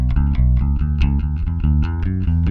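An electric guitar with a slightly driven tone runs a sequenced scale, notes picked quickly in a steady stepwise pattern, close and prominent with no voices.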